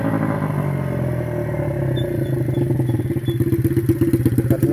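A mini bobber scrambler motorcycle at top speed, its engine a steady loud drone with a slight rise in pitch toward the end, plus some rattle and wind noise, with no talking.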